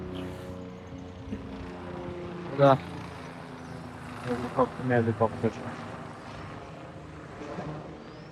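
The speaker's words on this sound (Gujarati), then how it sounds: "હેલિકોપ્ટર બહુ ઉડે છે યાર." Helicopter flying overhead along the mountain trekking trail to Nilkanth Parvat near Badrinath, a steady rotor drone through the whole stretch, with people talking over it.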